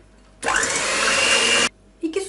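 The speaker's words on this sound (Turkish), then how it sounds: "İlk etapta bu malzemeyi yaklaşık 1 dakika kadar çırpalım" An electric mixer whisking batter ingredients for crepes runs loud and steady for about a second, then cuts off, followed by a brief clatter.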